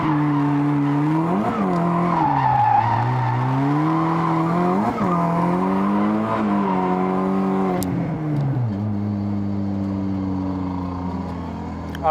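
A car drifts on an airstrip, its tires squealing loudly and continuously with the engine revving and dipping through repeated slides, close and with no talk.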